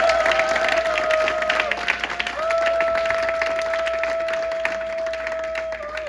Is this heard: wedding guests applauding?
yes